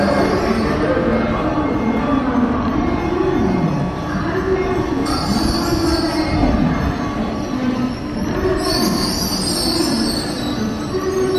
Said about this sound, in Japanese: ただいま6番線到着の電車は回送電車です。